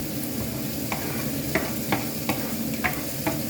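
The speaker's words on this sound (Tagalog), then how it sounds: "sa pan po, naglagay ako ng olive oil. Igigisa ko po siya." Onion and garlic sauté in olive oil in a pan for a homemade tomato sauce, a soft continuous sizzle broken by several light scrapes of stirring, close and fairly quiet with no talking.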